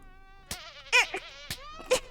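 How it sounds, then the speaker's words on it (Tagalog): Cartoon fly buzz whining and wavering close by, cut by several sharp swatting hits as it dodges around. "Ay, buwisit, may langaw nga."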